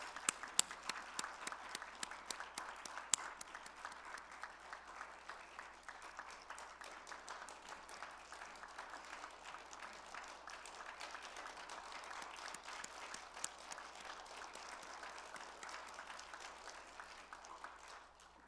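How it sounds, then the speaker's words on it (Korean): Sustained applause from a church congregation at a Sunday evening deaconesses' dedication service, dense steady clapping filling the room for the full length, loud and continuous without talk. "하나님께 영광의 박수 다시 한번 올려드리겠습니다."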